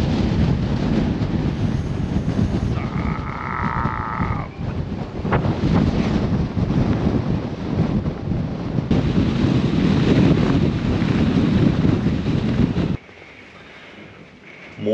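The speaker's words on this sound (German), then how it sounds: "Heute ist Sturmtag, also bis zu 100 Stundenkilometer Böen." Storm wind with gusts up to 100 km/h roars hard and continuously across the microphone during an Iceland road trip in an expedition camper, with no letup until it drops suddenly near the end.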